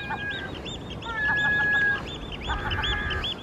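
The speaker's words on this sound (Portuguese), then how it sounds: "Hegel, olha o tamanho dessa gaivota." Loud gull calls ring out in repeated bursts of harsh, honking cries, several calls in quick succession with short pauses, close by and without talk.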